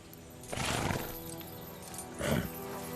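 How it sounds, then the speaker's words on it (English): A horse (a kelpie in a fantasy film) gives two short bursts of snorting and neighing, fairly faint, over a quiet musical background. "Who is this crazy horse?"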